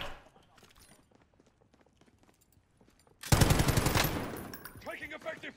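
Call of Duty Warzone gunfire: quiet scattered ticks and faint shots at first, then a sudden loud, close burst of rapid automatic fire that dominates the last seconds.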